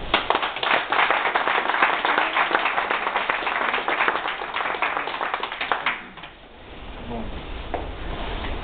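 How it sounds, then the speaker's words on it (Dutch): An audience at a lifeboat station opening ceremony claps steadily for several seconds, then the clapping fades out and gives way to quieter room sound. "Applaus."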